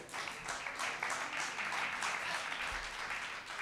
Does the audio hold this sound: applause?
yes